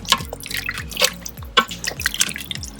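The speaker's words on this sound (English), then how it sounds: "I'll add a little bit of lemon juice." Lemon juice falls into a pot in a quick run of distinct close drips and small splashes, some landing in irregular pairs, with no talking.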